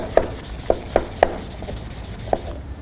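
A crafted piece being polished by rubbing, heard as a few short, crisp scraping strokes at uneven spacing. They are close and fairly quiet over a soft background hiss.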